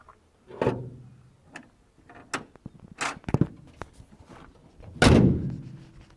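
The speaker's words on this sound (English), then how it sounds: "So let's close the hood first." Several heavy metallic thunks and clatters, with a loud final slam of a 1993 Toyota Corona's hood near the end, close by with no talking.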